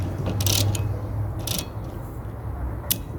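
Someone tightens the nut on a car wiper arm with a tool, making several short metallic ratcheting bursts close up, separated by pauses, against a low background hum.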